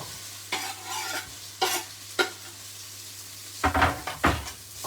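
Onions fry in a hot pan, giving a steady background sizzle broken by several loud bursts as they are stirred and scraped, with no talking.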